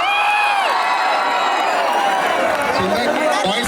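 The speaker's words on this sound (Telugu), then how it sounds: "సపోర్ట్ అందరూ ఒకసారి క్లాప్స్ కొట్టున్నారు." College students at a film promotion event clap and cheer together, a loud dense crowd roar with whoops and shouting that carries steadily, mixed with voices calling out over it.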